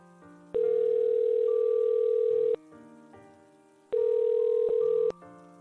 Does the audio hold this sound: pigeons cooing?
no